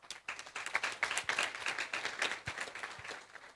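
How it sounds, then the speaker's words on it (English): A community-centre audience claps at a handover ceremony, a dense patter of hand claps that swells and stays fairly steady for a few seconds before tapering slightly. "For that, I think we need a very big round of applause"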